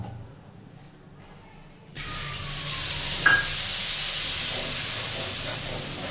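Hot oil sizzles and hisses loudly in a pan while spices are tempered for a gram-flour curry, a sudden steady roar that begins after a quieter start and holds to the end.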